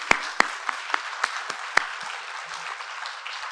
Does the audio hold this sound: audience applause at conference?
yes